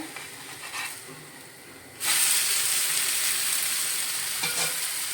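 A besan poli, a gram flour pancake, frying in oil on a pan, with a soft sizzle that jumps to a loud, steady close hiss and crackle after flipping, continuing without pause.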